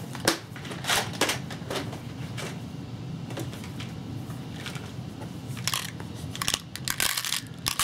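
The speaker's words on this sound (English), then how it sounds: "These plastic boxes are, well, some just for various types of components that one may need" Small plastic game pieces such as dice and little cubes rattle and clatter inside plastic component boxes, a steady series of close, crisp knocks and shuffling clicks with louder bursts throughout.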